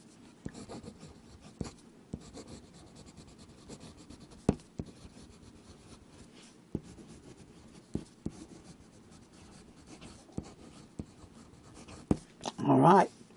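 A Waterman Carene fountain pen writing a few S's on paper, faint soft scratching strokes with small ticks, quiet and close, ending in a brief louder rustle.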